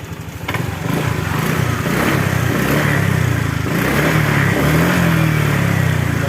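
A Honda Vario 125 scooter engine, which had been losing power, sputtering and stalling under throttle, revs nearby with a loud, continuous droning roar that rises slightly in pitch as it is throttled.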